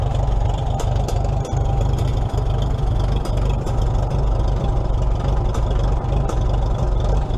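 A 1944 Minneapolis Moline ZTU tractor engine idles unevenly and roughly up close, a low throbbing rumble with irregular pops and ticks, steady and loud throughout.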